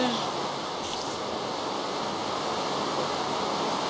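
Heavy rain pours in Far Cry New Dawn as a loud, continuous broadband hiss that stays steady and fills the scene, with no voices over it.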